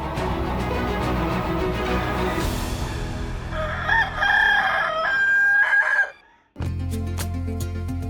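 A rooster crows loudly and close, with clucking black chicken hens and other fowl calls around it, then a brief pause before the chorus picks up again.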